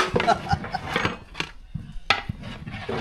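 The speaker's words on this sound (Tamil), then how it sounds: "நல்லா கலந்து விட்டுக்கலாம்" Ragi porridge with grated coconut and crushed cardamom being stirred in a pot: close, irregular scraping and clinking strokes of a spoon against the vessel, with short pauses between bursts.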